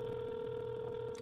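A telephone call placed to a trucking load broker rings unanswered: one steady, continuous ringback tone holds at an even level for the whole moment, with no voices.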